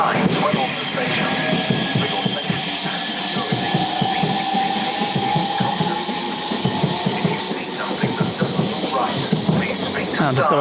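Javelin high-speed train pulling out of Ebbsfleet International station, a loud continuous rumble with rhythmic wheel clatter and squealing, rolling steadily close by.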